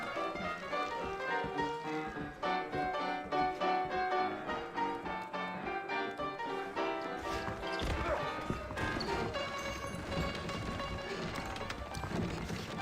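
Horse hooves clip-clop at a steady run in the Red Dead Redemption video game on Xbox 360, under a loud, continuous musical score.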